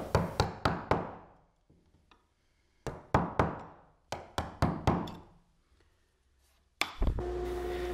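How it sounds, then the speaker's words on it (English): A mallet strikes a chisel to square up dados in wood while building a bar cart, giving groups of three to five sharp ringing knocks separated by pauses; close and loud, with a short burst of other noise at the end. "I squared up the dados with a mallet and chisel"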